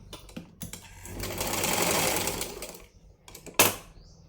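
A sewing machine stitches cross straps on a lined blouse in one steady, loud run of about two seconds, framed by short bursts of stitching before and after.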